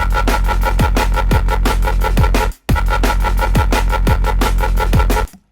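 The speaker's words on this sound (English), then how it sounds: "The first one is just straight out of the synth." A loud, raw growling neurofunk synth bass straight out of the synth, unprocessed, made in Phase Plant, playing a continuous rhythmic pattern with pitch-dropping wobbles, briefly cutting out once midway, heavy and up front.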